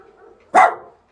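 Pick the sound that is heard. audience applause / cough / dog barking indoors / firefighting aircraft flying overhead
dog barking indoors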